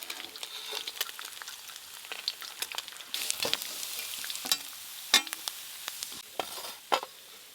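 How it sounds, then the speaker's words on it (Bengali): Pieces of fish fry in oil in a pan during village-style home cooking, with a soft continuous sizzle broken by sharp, repeated scraping and stirring strokes, close and alone. "এই মাছগুলো সব ভাজা হয়ে গেল।"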